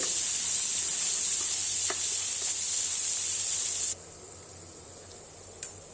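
Turmeric and ginger-garlic paste sizzle loudly in a hot pan for a capsicum gutthi masala curry, with stirring scrapes, before the sizzle drops sharply to a quieter hiss near the end.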